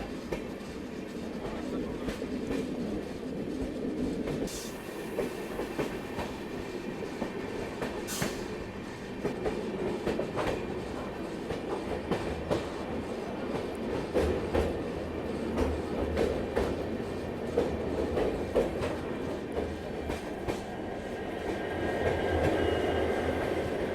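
A monsoon train hauled by a WDG 6G diesel locomotive rolls between Bengaluru and Mangaluru near Edakumeri, heard from inside a Vistadome coach as a steady rumble with rhythmic wheel clatter and occasional squeals, some quiet talk mixed in.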